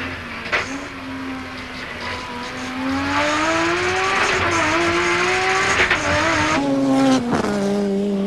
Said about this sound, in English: Noisy gearbox in the Nissan,